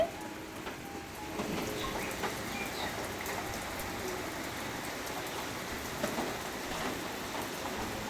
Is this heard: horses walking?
no